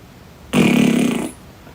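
A voice imitates a fart up close with a single loud, buzzing, low raspberry-like blast lasting under a second, set against near silence.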